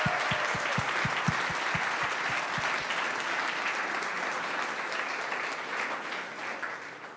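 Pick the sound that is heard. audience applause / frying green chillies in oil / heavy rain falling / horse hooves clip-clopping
audience applause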